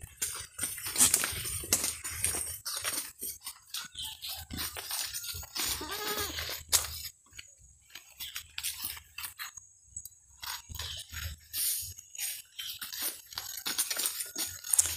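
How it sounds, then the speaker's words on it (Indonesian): Goats munch on fresh leaves close by, with rough, crunchy chewing and rustling in uneven bursts and an occasional faint bleat in the background. "kambing tetap dia masih memakan kalau diberikan daun"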